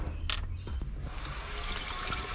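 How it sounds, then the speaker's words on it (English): 600 milliliters of water is poured into a thermos for tea: a couple of sharp clicks, then a steady, hissing rush of pouring liquid, close and continuous to the end. "Take my thermos, put in my 600 milliliters of water."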